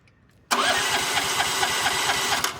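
A motorbike engine fires up abruptly after a faint quiet lead-in and settles straight into a loud, steady, close idle with a rapid putter, no talk.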